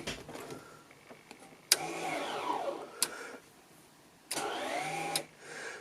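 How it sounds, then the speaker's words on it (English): An electric parking brake caliper motor whirs in two separate bursts when its switch is pressed, each a short rising mechanical drone bracketed by sharp clicks, fairly quiet and close, with stillness between. "So what we have here is a switch that switches the handbrake caliper."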